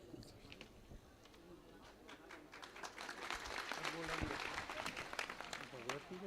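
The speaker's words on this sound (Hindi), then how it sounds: "एक बार पुनः आप तालियों की गड़गड़ाहट से उनका हार्दिक अभिनंदन करिए" Applause builds from a crowd gathered for a Shrimad Bhagavat Katha religious discourse, starting thin and swelling into dense, sustained clapping with voices mixed in.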